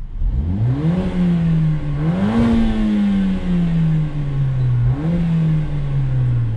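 A Mercedes-AMG A45 engine running in neutral makes a close, rattly, clattering drone, rising with a few short throttle blips before settling back to a steady idle.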